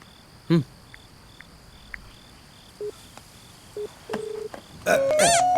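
Telephone keypad tones as a number is dialed in an indoor film scene, a few spaced single beeps followed by a faster cluster of tones and a ringback burst, with faint crickets under them and no talking.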